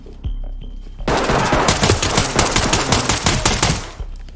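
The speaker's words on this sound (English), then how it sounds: "There's someone shooting though." Sustained automatic gunfire in the tactical shooter Ready or Not, a quiet pause and a single shot followed by a loud, dense burst of rapid overlapping shots lasting several seconds, close and continuous with no talk.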